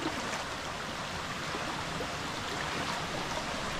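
Water rushes steadily through a freshly dug channel leading to a lake in a forest, a dense, constant flowing roar heard up close without a break.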